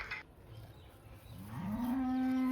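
A pregnant farm cow lows in one long, rising moo that builds and holds loud and close, following a quieter stretch of ambient farm noise.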